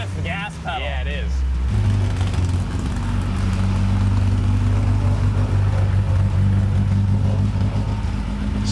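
An old car running on bean-based fuel starts up and settles into a loud, steady engine rumble with revving from a stiff gas pedal, close by, with people talking over it.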